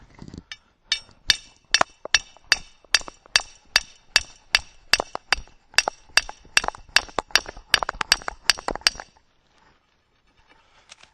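Sharpened wooden stake driven into the ground with a hammer, about twenty sharp, evenly spaced blows, loud and close, stopping abruptly near the end and followed by quiet.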